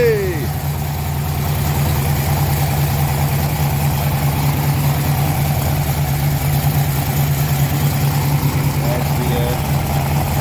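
A TVR Griffith racecar engine idles steadily after a cold start, a loud, even low rumble holding for the whole stretch, with voices faintly around it.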